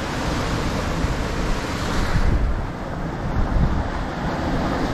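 Strong wind roaring over the microphone with ocean waves washing around a sailboat at sea under about 30 knots of apparent wind with two reefs in, loud and continuous with no talk.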